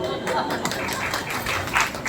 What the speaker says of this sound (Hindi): चलो आपने ताली बजाई इसके लिए धन्यवाद, दोबारा बजाओगे तो फिर से धन्यवाद